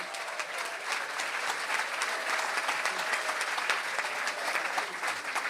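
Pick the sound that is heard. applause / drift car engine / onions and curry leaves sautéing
applause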